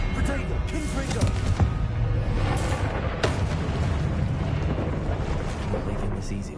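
A Confringo fire spell blasting in combat in Hogwarts Legacy, a loud booming burst over a dense, rumbling bed of battle noise with sharp impacts, while a voice speaks.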